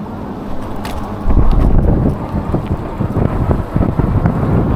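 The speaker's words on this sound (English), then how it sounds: "Once in a while I get hit with a gust." Wind gusting across a rider's microphone on an eBike at night in a city, a steady low roar that swells louder partway through and keeps buffeting, with no talking.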